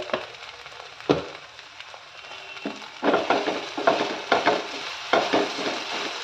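Sago pearls frying in oil while being stirred, a soft crackling sizzle broken by scraping strokes of a spoon against the pan, fairly quiet and close.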